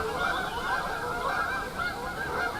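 Geese honk steadily in a flock, close and fairly loud, by a wild carp fishing spot in the USA, with overlapping calls for the whole stretch and no talking.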